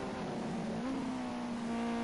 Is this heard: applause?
no